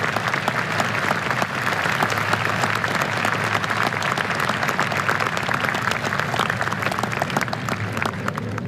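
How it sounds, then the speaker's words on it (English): Applause from the audience at the National Veterans Day Observance, a dense, loud and continuous round of clapping from a large crowd that holds steady from start to finish with no voices over it. "Ladies and gentlemen, please join me in recognizing our veterans' national leadership with your applause."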